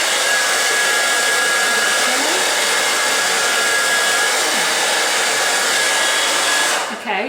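Remington Mineral Glow hair dryer blowing steadily with a loud, even whooshing roar and a faint high whine, running close and continuously for several seconds before it cuts off near the end; no talking.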